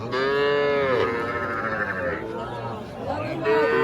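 Cattle moo loudly and close by, long drawn-out calls, with a babble of voices and market noise around them at Ambari cattle market in Dinajpur, Bangladesh.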